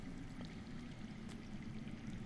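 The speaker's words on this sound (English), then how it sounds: "I hear water. From underground." Steady underground water flowing in a cave setting in a Game of Thrones video game, a continuous low rushing pour heard alone at a moderate, somewhat distant level.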